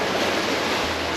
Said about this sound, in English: you always hear the water